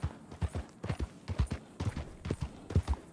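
Horse hooves clip-clop in the video game Red Dead Redemption 2, a quick, even walking rhythm of close, dull thuds with no voices over them.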